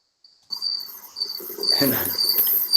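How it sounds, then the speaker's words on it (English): Crickets chirping outside at night, a steady high-pitched trill that carries on continuously and fairly faint in the background, with soft patter and light rustling noises mixed in. "I didn't add those crickets. They were actually crickets outside."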